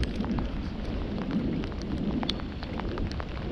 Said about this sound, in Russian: Такой затяжной гром.